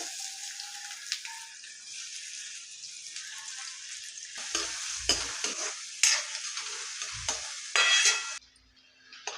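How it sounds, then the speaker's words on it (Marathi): Onion fries in hot oil for a village-style chicken sukka, a steady crackling sizzle broken by stirring scrapes and bursts of spatter, then dropping away near the end, with no speech. "तेल आता गरम झालेलं आहे, तर तेलात कांदा फ्राय करूया"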